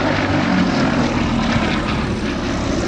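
A propeller-driven aeroplane flies over an airfield at Old Warden, its engine drone loud and steady for the whole stretch, with no voices.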